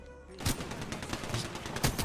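The Devotion energy weapon fires in Apex Legends, a rapid continuous burst of loud gunshots that starts after a brief quiet moment and keeps a fast, even rhythm.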